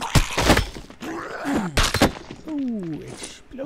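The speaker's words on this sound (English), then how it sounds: "Ooh, explosion." Explosions and impacts in the survival video game No One Survived: several loud booming thuds and crashes in quick succession, followed by a groaning creature sound.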